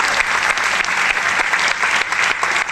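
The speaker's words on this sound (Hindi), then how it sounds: "तो ताली बनती है लोगों के लिए, जोरदार ताली" Loud, dense applause from a large live audience, steady and continuous throughout with no voices over it.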